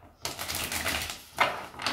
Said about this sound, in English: Let's just one more shuffle and then we're ready.